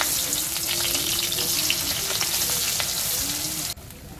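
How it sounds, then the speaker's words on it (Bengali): Fish marinated with salt, turmeric and chili fries in hot oil, giving a steady, close, busy sizzle that crackles throughout and drops away sharply just before the end. "চলো মাছগুলা ভাজা নেই।"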